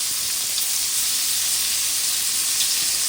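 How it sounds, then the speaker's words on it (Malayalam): Paneer pieces shallow frying in oil in a pan, a steady dense sizzle and crackle that runs unbroken throughout, fairly loud and close with no voices. "നമുക്ക് പനീർ പീസസ് ഇട്ട് കൊടുത്ത് ഫ്രൈ ചെയ്യാം. അപ്പോൾ ഞാനിവിടെ ഷാലോ ഫ്രൈ ആണ് ചെയ്യുന്നത്."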